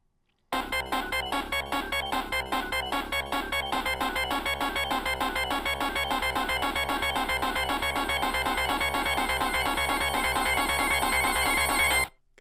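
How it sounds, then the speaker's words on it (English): The drowning countdown music from the Sonic the Hedgehog video game plays loud and alone, with rapid, insistent pulsing electronic notes that build steadily for about eleven seconds before stopping abruptly. "That is the sound of Sonic the Hedgehog drowning"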